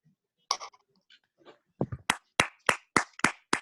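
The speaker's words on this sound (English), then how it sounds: "can you unmute your mic and give Toastmaster Shayo a big round of applause?" Participants in an online Toastmasters meeting clap over unmuted mics: a few scattered, faint claps at first, then a run of sharp, evenly spaced single claps, close and dry.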